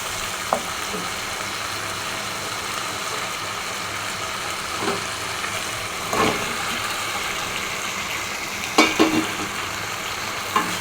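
Bottle gourd and small prawns are being stirred together in a hot pan, giving a constant moderate sizzle with a few soft scraping knocks of the spoon now and then, close and without talk.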